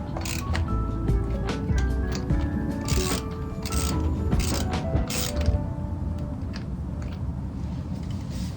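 Ratchet clicks ring out while bolts are tightened down on a car flywheel, a dense close run of quick metallic ratcheting bursts, busiest early and easing off toward the end, with no talk.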